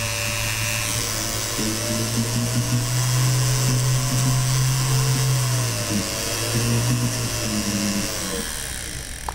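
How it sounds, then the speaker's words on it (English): A 2 mm pin polisher spins on a rotary power tool, giving a loud, steady high-pitched whine whose pitch dips and rises slightly as it polishes metal jewelry, running continuously throughout. "So this is a 2 millimeter pin polisher."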